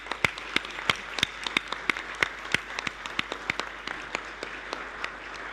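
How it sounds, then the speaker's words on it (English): An audience applauds the 40 ambassadors for a day at an International Women's Day event, with steady, distinct claps from a modest crowd at moderate distance and no talking. "Let's give a big round of applause to the 40 ambassadors for a day"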